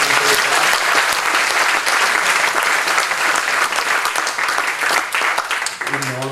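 An audience at a presentation of Genoese trallalero singing breaks into loud, sustained clapping that stays dense and continuous, with a voice starting to speak as the applause tails off at the end.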